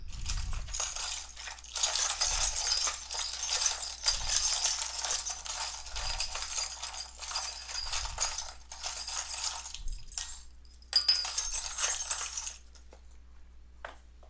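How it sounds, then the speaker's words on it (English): Small hard charms clink and rattle together in repeated bursts of shuffling, close up, with soft thumps between handfuls and no talking. "I just shuffle until I feel like it's time, like I've gotten the charms that are for you."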